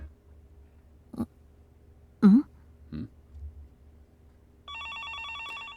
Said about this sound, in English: She could faintly hear a phone ringing.